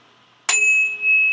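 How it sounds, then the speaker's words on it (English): A higher-pitched 417 Hz tuning fork is struck once and rings alone with a clear, pure, steady tone that sustains for about a second after a sharp attack. "And for this one, I'm going to use a higher pitched fork."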